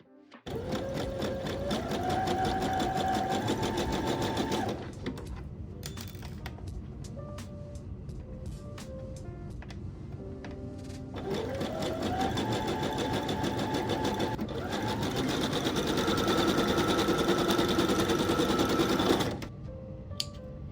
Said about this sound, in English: Take it to the machine and sew.